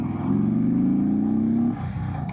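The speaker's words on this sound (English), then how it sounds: "it just has that V-twin rumble" Deep, steady engine rumble from a 2024 Indian Sport Chief V-twin cruiser with the 116 engine, loud and close, holding a throaty drone before easing off near the end.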